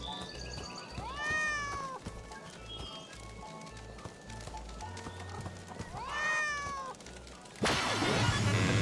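Cat meowing in the Mystery of the Druids video game, two drawn-out rising-and-falling meows a few seconds apart over a busy game soundscape with hoof-like clopping, ending in a sudden burst of loud noise.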